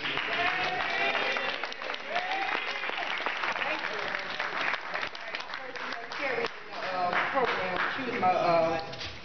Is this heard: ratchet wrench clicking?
no